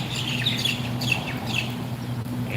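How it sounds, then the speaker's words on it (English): Birds chirp and sing in repeated short bright calls around a Chiang Rai temple, Wat Huay Pla Kang, over a steady low hum of background traffic. "there are some really beautiful sounds of the birds."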